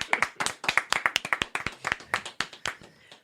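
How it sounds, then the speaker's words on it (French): A small audience claps together after a talk or radio-style session, a quick run of crisp, fairly close handclaps that thins out toward the end, with no voices over it. "Bravo, on peut t'applaudir."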